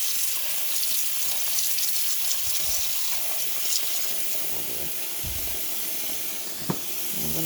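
Tap water runs steadily into a basin to wash foraged dandelions, a continuous hissing splash with a brief clunk near the end.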